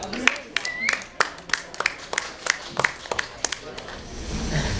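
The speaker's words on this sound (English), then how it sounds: "Give her a round of applause." A small audience at a lightning-talk event claps sparsely, with distinct individual claps in an uneven rhythm that fade out, leaving low room noise.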